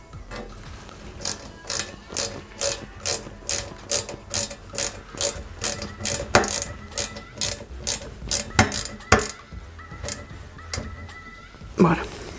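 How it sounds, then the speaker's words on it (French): A small screw is driven into an Eaglemoss Ghostbusters Ecto-1 model with a hand screwdriver, making a steady series of close ratcheting clicks at about two per second, followed by a few handling taps. "on va mettre la dernière vis"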